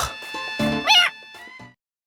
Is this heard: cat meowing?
yes